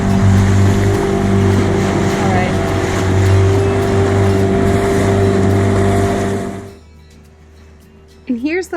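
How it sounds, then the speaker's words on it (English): A motor dinghy runs along the Spanish coast into a narrow gorge, its steady engine drone loud and close over splashing water for most of the stretch before cutting out near the end, followed by a brief burst of noise. "We're running the dinghy right into this gorge, into this crevice."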